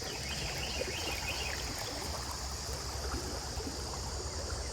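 A creek swollen by flooding after Hurricane Ida rushes steadily, a continuous close, even roar of flowing water with no pauses.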